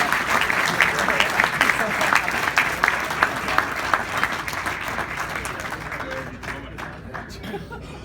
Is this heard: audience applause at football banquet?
yes